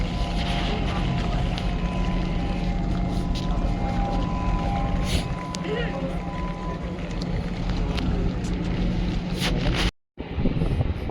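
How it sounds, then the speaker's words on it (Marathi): Ferry boat engine droning steadily on open water, a loud low rumble mixed with wind buffeting the microphone and rushing water, briefly cutting out near the end before resuming. "ही आपली फेरी बोट आहे."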